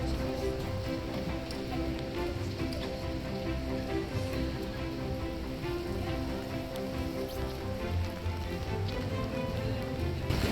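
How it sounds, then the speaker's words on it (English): Steady rain falls outdoors on a wet day, a dense continuous hiss and patter that stays even and close throughout with no clear voices. "There's Mike out in the rain."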